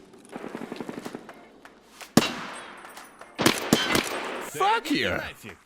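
Gunfire in Escape from Tarkov: a rapid burst of shots, then a sharp loud crack and further heavy reports, with a voice shouting between them.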